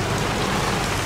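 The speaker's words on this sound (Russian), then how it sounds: "Дождик пошел, нифига себе, дождик." Steady rain pours down in the Mafia: Aeterna mod game, a dense, even hiss of drops on surfaces that fills the whole short moment with no talk.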